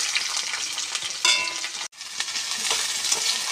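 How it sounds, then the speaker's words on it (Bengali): Chopped onion, green chilli and cut eggplant sizzle and crackle steadily in hot oil, a close, continuous fry with a brief stir clatter and a momentary dropout midway. "তেল গরম হয়ে গেছে, এখন পেঁয়াজ কুচি দিয়ে দেবো, কাঁচা লঙ্কা দিয়ে, এখন কেটে রাখা বেগুন দিয়ে দেবো।"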